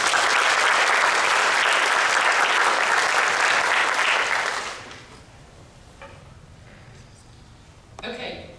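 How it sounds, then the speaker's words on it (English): A banquet audience applauds the sponsors at a county Teacher of the Year dinner, loud sustained clapping for nearly five seconds that stops sharply, leaving quiet room noise and faint sounds. "Let's give them a round of applause."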